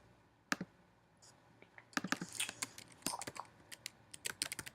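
Typing on a computer keyboard, close and quiet, with scattered single key clicks at first and then quicker irregular bursts of keystrokes; no voices.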